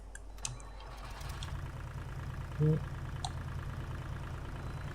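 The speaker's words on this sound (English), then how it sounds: "Then we'll go ahead and get our brand new little tractor here." A brand-new small tractor in Farming Simulator 22 cranks and catches, then settles into a steady low idle that hums on under a voice.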